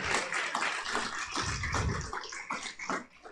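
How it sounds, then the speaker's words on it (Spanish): Congregation applauding in a church service, a dense, loud wash of many hands clapping that swells and fades slightly over a few seconds, with no speech on top. "denle un aplauso fuerte al Señor"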